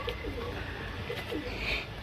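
A pair of sabja pigeons cooing, with a few soft, low, rounded coos in a brief burst, faint against a quiet background.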